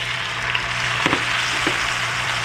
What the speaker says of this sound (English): Now I will add the finely chopped tomatoes